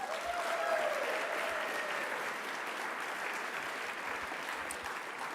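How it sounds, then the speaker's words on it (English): A banquet crowd at an awards celebration claps for the honorees in a dense, sustained round of applause that stays even and full throughout, with no voices above it. "let's give a big round of applause for all the recipients tonight"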